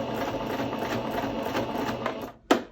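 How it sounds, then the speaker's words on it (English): A sewing machine stitching through thick layers of skirt material gives a steady, close mechanical whirr with faint repeated needle thuds, ending in a sharp clunk. "you can start hearing the thud now of the sewing machine"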